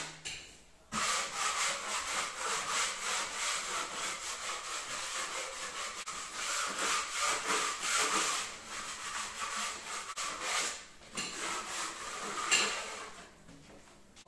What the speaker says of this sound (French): on va gratter un petit coup un peu partout hein, de ce qu'on a fait pour enlever les petits bouts de plaque qui dépassent